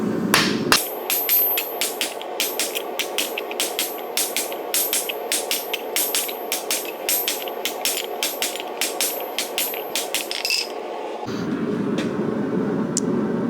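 Rapid, evenly spaced metallic strikes ring out as a copper ladle made from half-inch square copper bar is hammered over a 2 5/16 inch ball stake. The blows run for about ten seconds in a steady, sharp rhythm, then stop, leaving low background noise.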